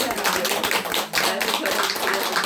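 A church congregation applauds during a service, claps rising and falling in uneven bursts, fairly close and lively, without speech.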